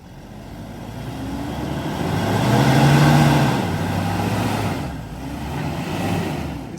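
A Toyota Hilux 4x4 engine revs up to climb out off-road with A-Trac traction control on. It swells to a loud, strained peak, eases back, then builds again, close and continuous.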